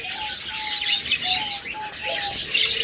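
A pair of rainbow budgerigars kept for sale chirp and warble close by, a run of short bright calls and chattering tweets with brief gaps between them.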